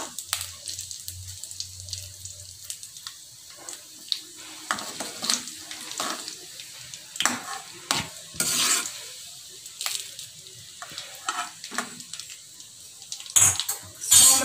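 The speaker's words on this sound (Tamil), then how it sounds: "சோம்பு கொஞ்சம் நல்லா பொரியட்டும்." Fennel seeds sizzle in hot oil in a pan at the start of a plain kurma, a steady crackling fry broken by scraping stirs and occasional clinks of a utensil.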